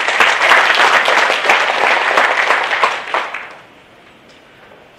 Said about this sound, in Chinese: 我们给他掌声。